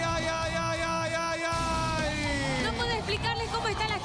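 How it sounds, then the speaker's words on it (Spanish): Crowd at a team fitness competition yelling and cheering continuously, a dense loud roar of many voices with sustained tonal music or horn underneath throughout. "Los gritos del público son impresionantes."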